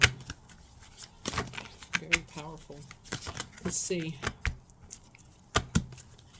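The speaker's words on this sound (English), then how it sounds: "It's kind of hard to shuffle these cards because this is such a thick deck of cards." A thick deck of angel number cards is shuffled by hand. Bursts of riffling, slapping card sounds come in an uneven rhythm, with a voice speaking briefly between them.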